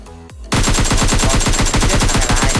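Rapid automatic gunfire from PUBG Mobile, a steady, loud, tightly spaced stream of shots that starts abruptly after a brief quieter moment and keeps hammering without pause.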